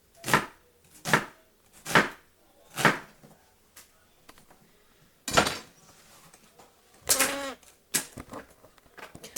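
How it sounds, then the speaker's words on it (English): A knife chops through vegetables on a cutting board as they are halved and chunked for roasting: about eight sharp, close thuds, first in an even rhythm, then more irregular after a short pause. "I'm just going to cut these down the middle and kind of chunk them"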